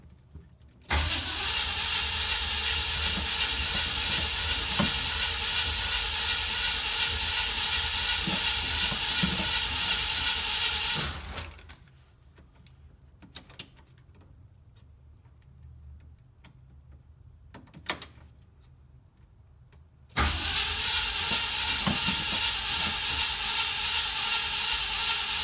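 A Jeep CJ5 with an AMC 304 engine and MSD ignition cranking without catching, a loud, steady starter grind that runs for about ten seconds, drops to near silence with a few clicks, then resumes just as loud.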